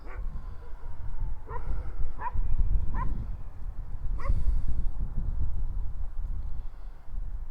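On Elephantine Island in the Nile at Aswan, Egypt, a dog lets out several short barks and yips in a loose series over steady outdoor background noise.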